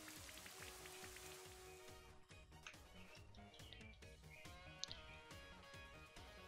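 Steady patter of rain from the move Rain Dance in Pokemon Sword plays under a looping electronic game soundtrack, constant and even throughout.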